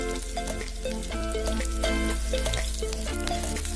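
Onion pieces dropped into hot oil for a pork dish, a loud close bubbling sizzle with crackling pops that stays steady throughout while a tune plays along underneath.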